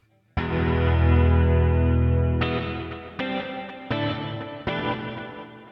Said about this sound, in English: now I have plenty of reverb to play with.